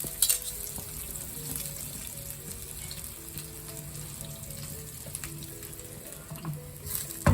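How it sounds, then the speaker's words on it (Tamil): Grated coconut fries in a pan, a steady close sizzle and crackle that runs throughout with occasional scraping as it is stirred toward golden. "இப்போ கோல்டனா வறுக்கணும்."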